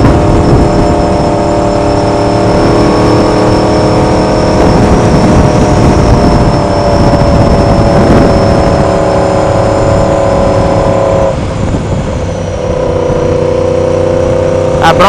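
A 2016 Yamaha R1 sport motorcycle with an aftermarket exhaust runs loudly and continuously while being ridden, its engine droning with steady pitch and wind roar, easing briefly before resuming.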